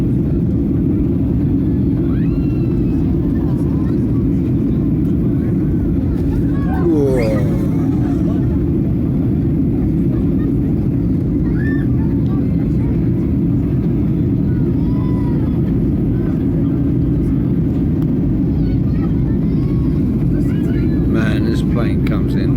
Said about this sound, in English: Man, this plane comes in.